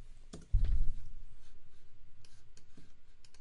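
Computer mouse click followed by a run of keyboard typing as a name is entered, a steady rapid patter of small key taps, close and fairly clear with no talk.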